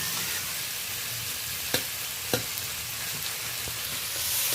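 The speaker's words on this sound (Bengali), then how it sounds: "আমি এরই সাথে চিংড়ি মাছটা মশলার সাথে ভালো করে কষিয়ে নিচ্ছি" Prawns frying with spices in a pan make a steady, bright sizzle throughout, broken by a couple of sharp clicks from stirring. No voices.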